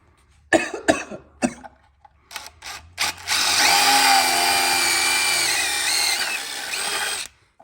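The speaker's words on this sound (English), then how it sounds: "I'm going to use a 1/4 inch paddle bit." A power drill with a 1/4 inch paddle bit bores into wood, revving into a loud, steady, high whine for about four seconds. A few short knocks and clicks come before it, and the whine cuts off abruptly at the end.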